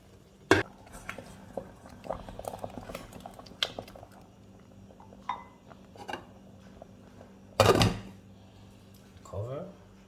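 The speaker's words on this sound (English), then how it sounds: "Add up our ogbono and stir." Ogbono soup is stirred in a pot, with scattered clinks and scrapes of a spoon against the metal, one sharp knock early on and a louder clatter near the end, under a quiet background.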